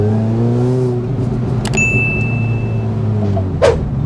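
Mini Cooper S R53 engine pulling under throttle, its steady drone punctuated by two sharp exhaust pops, one midway and one near the end, close and loud.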